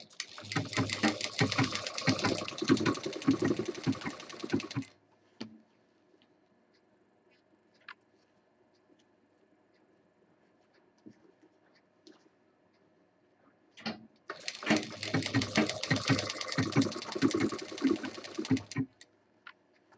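A sewing machine stitches fabric for an office handbag in two loud bursts of rapid mechanical chatter, about five seconds each, separated by a long near-silent pause with faint handling clicks.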